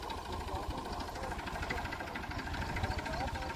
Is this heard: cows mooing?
no